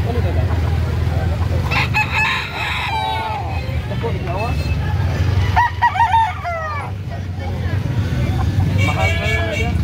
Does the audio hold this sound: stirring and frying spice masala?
no